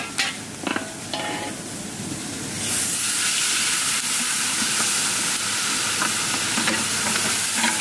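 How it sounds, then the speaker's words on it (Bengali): Marinated mutton dropped into hot mustard oil in an outdoor village pot for biryani. A few clatters come first, then a sudden loud, sustained sizzle and hiss that continues close up, with no talking. "তেল গরম হয়ে গেছে, দিয়ে দেবো ম্যারিনেশন করা মাংস।"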